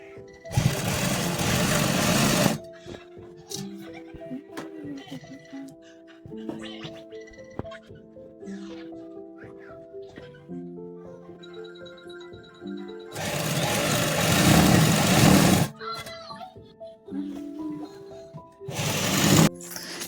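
A sewing machine stitches a fall and border onto a saree, with bursts of loud rapid whirring at the start, middle and end and quieter household sounds between them.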